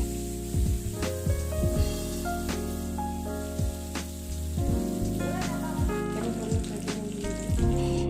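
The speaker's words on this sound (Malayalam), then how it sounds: "ഞാൻ നേരത്തെ മാരിനേറ്റ് ചെയ്ത് വെച്ചിട്ടുള്ള ചിക്കനൊക്കെ ഒന്ന് പൊരിച്ചെടുത്ത്." Marinated chicken fries in a pan. A steady, close sizzle and spatter runs the whole time, broken by clinks and scrapes, and there is no talk.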